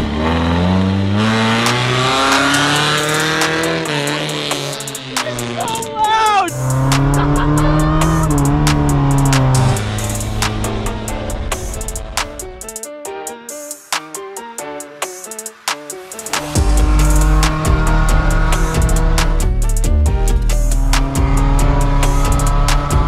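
A mud truck, a monster car, revs and drives with a loud, close engine roar that climbs and falls through repeated revs, with a brief near-silent pause midway before the engine blares again.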